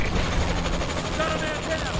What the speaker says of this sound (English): Warbird support request. Friendly UAV online. UAV in range. Enemy Warbird above.